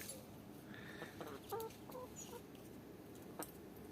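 Hens cluck in a backyard chicken coop, several short calls scattered over steady outdoor background noise at moderate distance, with no talking.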